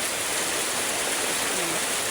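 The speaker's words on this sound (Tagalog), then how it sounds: "Parang lalong lumalakas ang ulan guys, oh." Heavy rain pours down in a steady, dense, broadband hiss that stays loud and continuous with no pauses.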